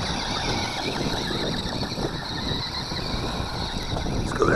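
An Xspeed Glory 1:16 4x4 RC rally car driving off-road on rough ground, giving a continuous high electric motor whine over rattling, crunching terrain noise that holds at steady loudness.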